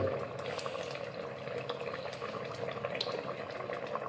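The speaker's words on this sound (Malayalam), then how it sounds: "ഇതിൽ കുറച്ച് വെളിച്ചെണ്ണ കൂടെ ഒഴിച്ച് കൊടുക്കുക" Coconut oil is poured over a simmering fish curry, giving a soft, continuous bubbling and liquid wash with faint drips, moderately quiet and steady throughout.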